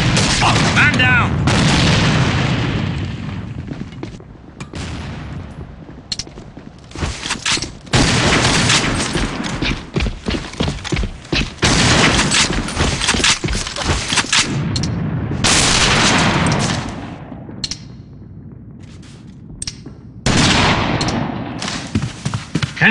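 Gunfire and heavy booms from a sniper video game, bursts of shots and explosions rolling almost continuously at close range with brief gaps, mixed with game voice chatter.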